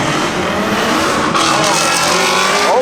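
Loud race cars launching at a drag strip, a steady roaring engine wash over the whole stretch with a rising whine near the end, heard up close with no talk.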